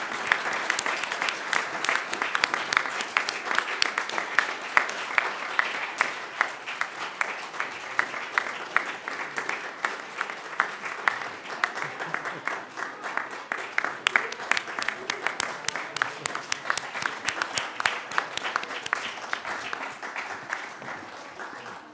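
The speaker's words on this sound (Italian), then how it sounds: "Io propongo davvero un altro grande applauso" Sustained applause from a crowd at an honorary degree ceremony, many hands clapping steadily and densely for over twenty seconds, fairly loud and continuous.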